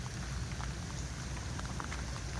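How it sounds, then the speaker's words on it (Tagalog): Steady, heavy typhoon rain pours continuously, a dense hiss with faint pattering drops throughout and no voices. "hindi pa rin tumitigil ang ulan mga karabas"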